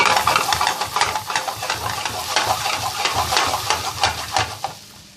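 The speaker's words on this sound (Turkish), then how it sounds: "Güzelce karıştıralım. Baharatlar ve patatesler birbiriyle birleşsin." Baby potatoes stirred in a hot pan with butter and spices, giving loud, continuous scraping and sizzling with rhythmic strokes of the spoon, close up, with no talking.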